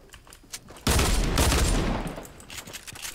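Gunfire in an online shooter game: a sudden loud burst of rapid shots erupts, sustains for about a second, then fades into quieter scattered game noise.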